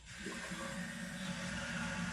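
Water rushing into a toilet after the main supply is turned back on, a steady hissing flow with a low gurgling undertone, fairly quiet and continuous.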